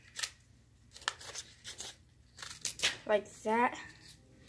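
Scissors snip through folded paper to cut out a shape, giving short crisp cutting and rustling sounds close by, mixed in with a person talking.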